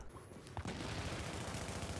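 Gunfire in the online shooter The Division sounds as a burst of rapid, dense shots, muffled and somewhat distant, filling most of the moment with no voices over it.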